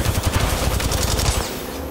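Rapid automatic gunfire from a shootout in Apex Legends rattles in dense, loud bursts for about a second and a half, then breaks off into quieter background noise.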